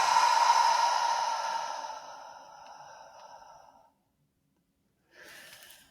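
Slow, deep breathing exercise: one long, loud exhale that fades away over several seconds, then silence, then the start of a quieter breath.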